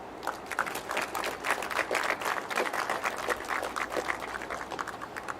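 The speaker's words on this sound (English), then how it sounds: "Please join us in congratulating and celebrating Coach Anthony Fuller." Crowd applause at a high school flag football event, steady clapping from many hands, moderately distant and sustained for several seconds.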